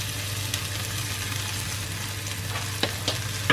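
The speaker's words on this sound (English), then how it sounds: "I'm just frying off all of the spices together" Spices including chili powder fry together in a pan, a steady close sizzling hiss with a low hum underneath and a few brief scraping clicks near the end.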